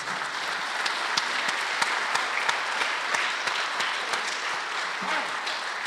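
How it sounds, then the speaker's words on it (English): An audience at a high school spring band concert claps steadily and warmly, a sustained wash of applause at even volume with scattered individual claps standing out. "Can you give all of those folks a round of applause, please?"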